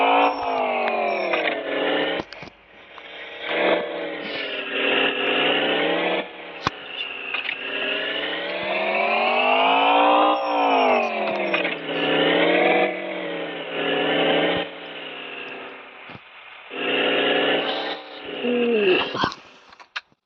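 A jet-black Toyota Fortuner's engine revs and settles in repeated rising and falling sweeps as it is maneuvered into a parking spot, loud and close for about twenty seconds.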